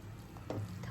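Beetroot and milk roasting together in a pan, a soft steady sizzle with a brief stirring scrape partway through, close and fairly quiet.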